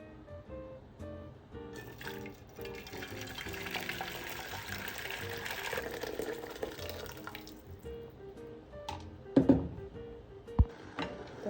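Hot water pours over seasoned couscous in a pot, a steady close stream lasting several seconds, then a few sharp clinks of utensils and no speech.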